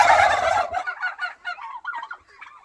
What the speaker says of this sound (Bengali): এখানে 100 পিস টার্কি আছে